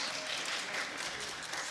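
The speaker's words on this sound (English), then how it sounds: "Normally we begin in applause" Brief burst of audience applause at a town meeting, heard as dense, steady clapping from a room full of people at moderate loudness.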